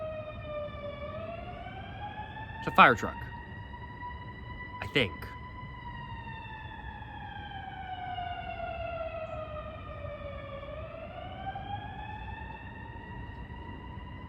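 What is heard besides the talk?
fire truck siren passing with Doppler effect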